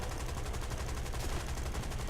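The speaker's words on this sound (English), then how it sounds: "Oh yeah, and here's the guns, by the way." Guns of a Typhoon Mk 1a fighter firing in a flight combat video game, a sustained rapid rattle of shots over a constant engine roar with no pauses and no speech.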